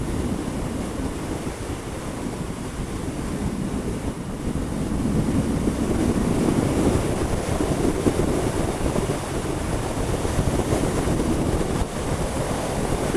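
Strong wind roars and buffets the microphone during a ride on a stock Harley Davidson Dyna Lowrider motorcycle, a dense, continuous rushing noise that swells slightly midway, with no talking.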